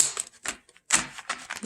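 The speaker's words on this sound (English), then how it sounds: "let's give it a couple shuffles here" A tarot card deck being shuffled by hand, giving a few quick papery riffling bursts with short pauses between them, close and fairly quiet with no talking.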